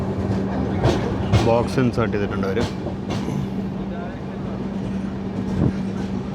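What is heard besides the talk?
12675 Kovai Express train running, AC chair car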